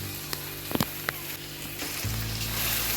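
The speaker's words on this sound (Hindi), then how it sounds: "ये अब मैं ताज़ा रेड मिर्च इसमें शामिल कर दूँगी और थोड़ी देर इसको अच्छी तरह भून लूँगी" Fresh red chilies fry in mashed baingan bharta, giving a soft, steady sizzle broken by a few faint clicks of a utensil early on, then a slightly fuller hiss toward the end.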